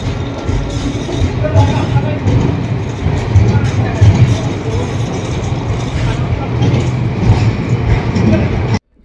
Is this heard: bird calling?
no